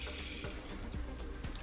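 Water runs steadily into a Blanco kitchen sink during rinsing, a close, continuous splashing wash with faint irregular bumps and no voices.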